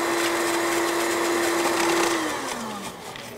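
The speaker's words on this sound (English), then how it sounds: "You just have to check that it doesn't stick to the sides of the blender." Blender mixing hummus from chickpeas with chickpea juice, a loud steady whirring motor close by that winds down in pitch near the end, with no talk.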